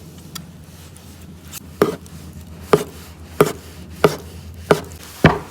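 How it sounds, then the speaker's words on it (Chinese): A knife slices through tofu onto a cutting board in six or seven sharp, evenly spaced thuds, close and clear over a quiet kitchen background with no talk. "豆腐切片"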